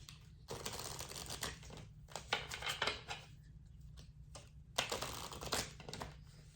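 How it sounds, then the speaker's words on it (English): A deck of oracle cards is shuffled close by in quick papery bursts of riffling and flicking, separated by short quiet gaps over a low steady hum. "give it a quick shuffle"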